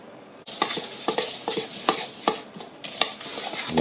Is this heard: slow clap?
no